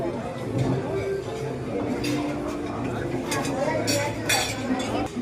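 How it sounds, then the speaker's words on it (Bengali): Plates and cutlery clink at a restaurant breakfast, with scattered light knocks and chinks over a busy room murmur while people chat nearby. "এদিকে প্লেট দিতে হবে।"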